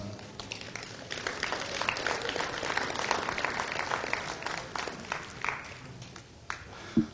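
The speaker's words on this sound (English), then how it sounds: "I think this class here deserves a round of applause" Spectators applaud at a cattle show, a sustained patter of many hands clapping in the show ring, moderately distant and fairly even before tapering off near the end.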